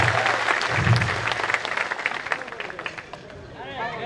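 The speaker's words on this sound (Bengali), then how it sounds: "স্যারের জন্য সজোরে করতালি" Audience applause fills a hall at a formal gathering honoring a guest, steady clapping at moderate loudness with crowd murmur underneath, tapering slightly toward the end.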